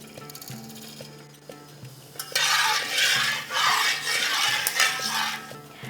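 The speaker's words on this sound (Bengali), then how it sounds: "তেল ভালো মতো গরম হয়ে গিয়েছে। এরপর দিয়ে দিচ্ছি সামান্য একটু গোটা মৌরি।" Whole fennel seeds hitting hot oil in a pan, starting a loud, close crackling sizzle about two seconds in that swells and continues, after softer utensil clinks and stirring.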